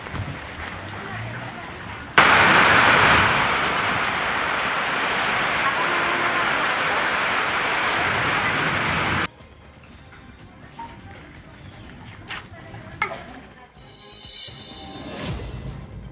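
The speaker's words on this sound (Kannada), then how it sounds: "ಗದಗ ಬೆಟಗೇರಿ ಅವಳಿ ನಗರದಲ್ಲಿ ಧಾರಾಕಾರ ಮಳೆಯಾಗಿದೆ." Torrential downpour in the twin city of Gadag-Betageri, a loud, dense roar of rain and running water that starts abruptly and holds steady for several seconds before cutting to quieter, patchy ambience.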